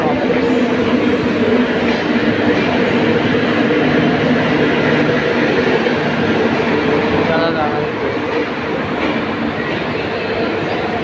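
A fast express train roars past close by on the Konkan line between Panvel and Roha, a loud continuous rush of rumbling and rattling wheels that barely fades.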